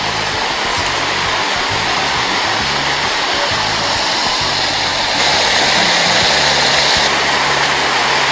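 Steady, loud roar of rushing water from a waterfall in Jesmond Dene park, broadband and continuous with no break or voices.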